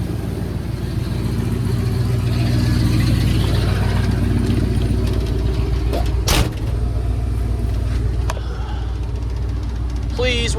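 A 1978 Ford F100 truck engine runs steadily at close range with a deep, constant low rumble through the whole stretch, a brief knock or clunk partway through as it is put in gear.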